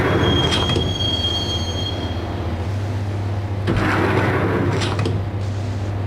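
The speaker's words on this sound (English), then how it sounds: "the train doors had already shut behind me, and I was in for the ride." Train riding through a subway tunnel in the Max Payne video game, a loud continuous rumble of wheels with a sharp high metallic squeal early on and clattering rail bursts later, no talking.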